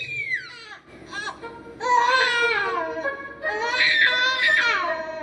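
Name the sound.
storyteller imitating a baby crying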